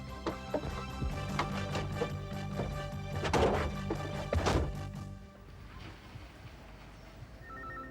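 A telephone rings with a steady electronic trill for several seconds, joined by a few sharp knocks, then stops, leaving quiet room tone.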